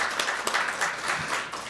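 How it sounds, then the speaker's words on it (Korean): Applause from a symposium audience after a university professor's lecture. A brief, dense patter of many hands clapping at once holds a steady moderate level. "설동훈 교수님 강연에 큰 박수로 감사해 드리겠습니다."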